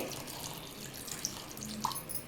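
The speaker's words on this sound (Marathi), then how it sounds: "आता थोडं थंड पाणी टाकूया ह्याच्यामध्ये" Cold water pours into a bowl in a steady, close splashing stream, with a few brighter drips and splats.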